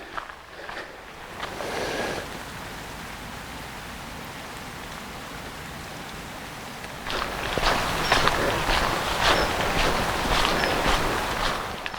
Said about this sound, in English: It's still raining slightly